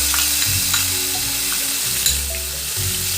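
Onion paste sizzling in hot oil for a Bengali pomfret fish curry, a steady close frying hiss with occasional stirring scrapes and no talk.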